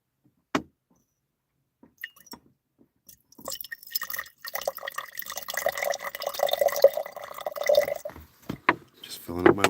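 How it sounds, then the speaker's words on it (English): Water running and trickling into a bottle being filled, a near gurgling stream that builds after a few scattered clicks and knocks, with small clunks at the end. "Just filling up my water."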